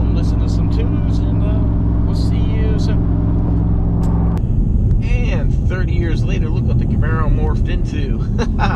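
A third-generation Camaro Z28 cruising on the interstate gives a steady loud engine and road drone throughout. Partway through, the low hum shifts to a rougher, busier roar with higher whining sweeps.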